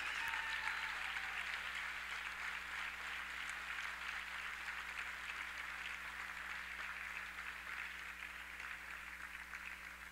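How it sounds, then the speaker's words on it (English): Steady crowd applause rings through a gym at a Carson-Newman basketball Senior Day ceremony honoring a senior player, continuous even clapping heard from a distance over a low hum, with no talk on top. "let's give a nice round of applause to Carson-Newman Senior, Shantae Marcus"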